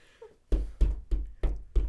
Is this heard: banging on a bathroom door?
yes